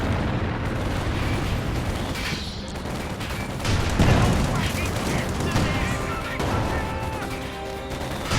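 Anti-tank gun, a 17-pounder, firing in Company of Heroes 2 amid a dense battlefield din of explosions and gunfire, with a voice talking throughout.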